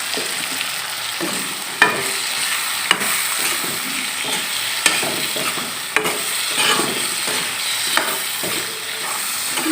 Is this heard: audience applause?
no